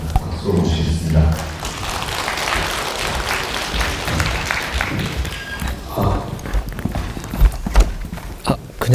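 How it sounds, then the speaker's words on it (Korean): Audience at a residents' briefing on a housing redevelopment claps to welcome the next presenter, a sustained stretch of applause with shuffling and footsteps mixed in, fading unevenly toward the end. "박수로 모시겠습니다."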